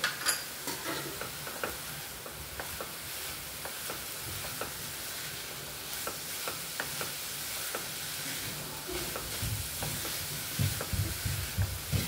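Coconut filling with sesame and poppy seeds being sautéed and stirred in a pan, a steady soft sizzle with repeated light scraping and stirring ticks throughout, no voices.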